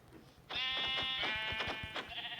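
A Minecraft sheep bleats close and clear, one wavering nasal bleat with a pulsing rhythm lasting about two seconds, alone without talk.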